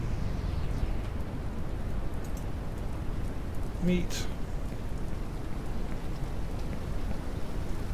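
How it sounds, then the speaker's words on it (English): Steady rain hisses and patters continuously in Ranch Simulator, fairly loud, with a brief spoken word partway through. "And here comes the rain again."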